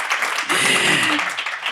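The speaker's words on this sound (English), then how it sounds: "Round of applause for our panelists." Audience applause for panelists at a SXSW panel on biotech and coral reefs, a short burst of many hands clapping that swells and then holds, close and even, with a voice faintly audible underneath.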